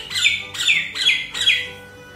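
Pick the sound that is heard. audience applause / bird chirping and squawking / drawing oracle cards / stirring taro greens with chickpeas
bird chirping and squawking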